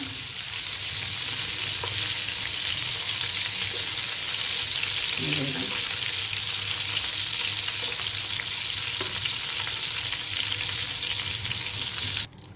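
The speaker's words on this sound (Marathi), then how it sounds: "आता अशा तऱ्हेने आहे ना हे मी बाकीचे पण सर्व भाजून घेते" Stuffed calamari (makul) frying in a pan keeps up a continuous bright sizzle, with a few soft clatters from turning the pieces, until the sound drops suddenly near the end.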